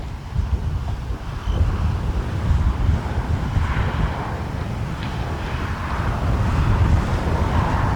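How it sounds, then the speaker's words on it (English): Steady, loud wind buffeting a microphone at an RC model plane flying field in Florida, a continuous low rumble that swells slightly toward the end, with no voices. "Yes, it's windy. It is windy."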